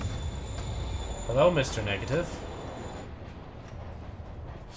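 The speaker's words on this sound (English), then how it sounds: "Train moving." A train moves in a Spider-Man video game, rumbling steadily under a short burst of game dialogue and a brief clatter of metallic tones, before the scene quiets.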